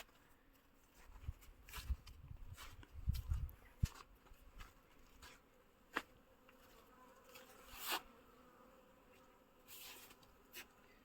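Honeybees flying around hives at an apiary, with warming bee colonies beginning their cleansing flights: a faint, steady buzzing drone with occasional louder passes of individual bees close by, no talk.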